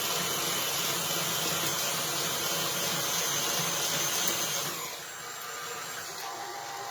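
An electric hand mixer whirs steadily at high speed through cookie dough with baking soda added, loud and close, then drops to a lower, quieter pitch for the last couple of seconds.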